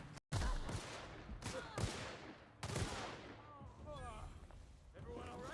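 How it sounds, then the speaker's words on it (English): Several heavy weapon blasts from a grenade launcher in the video game The Outer Worlds, in sharp bursts spread over a few seconds, with a character's voice talking over the later part. "Yeah, you have a grenade launcher."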